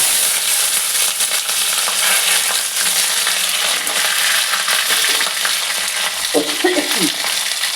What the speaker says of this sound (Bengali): দিয়ে আমি কপি আলুগুলোকে ভালো করে ভেজে নেব।